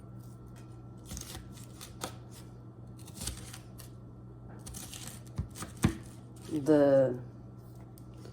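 A dull kitchen knife cuts food into small pieces, giving faint, widely spaced chopping clicks against a board, followed by a brief spoken word near the end.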